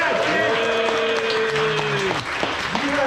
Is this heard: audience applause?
yes